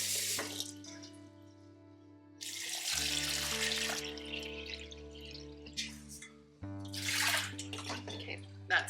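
Tap water runs steadily into a pot for canning pineapple, a close splashing flow that stops briefly and then starts again.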